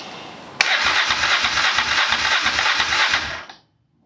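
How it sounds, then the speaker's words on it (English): A Honda Transalp motorcycle's starter motor cranks the engine in a loud, rhythmic churn of about eight even pulses that never catches, then cuts off into silence; the solenoid is faulty and the ignition circuit is disconnected. "starter engine works"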